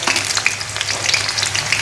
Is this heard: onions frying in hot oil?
yes